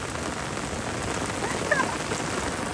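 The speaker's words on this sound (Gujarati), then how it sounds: "હા ઓય વરસાદ આવ્યો" Steady heavy downpour hissing evenly throughout, a broad wash of rain during a shrimp-fishing outing, with a faint brief chirp midway and no clear voices.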